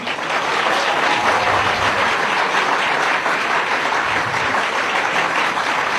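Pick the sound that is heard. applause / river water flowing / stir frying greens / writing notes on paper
applause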